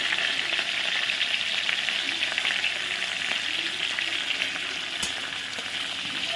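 Crushed black cardamom and cumin seeds sizzle in hot oil in a pan as a spice tempering, a steady close crackling hiss with a faint tap near the end and no voices.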